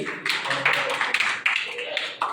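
A church congregation claps together in a dense, steady patter of many hands, with voices mixed in beneath it throughout.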